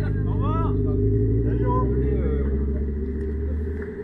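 An engine with a badly adjusted carburettor idles with a loud, uneven, throbbing rumble up close while someone talks over it.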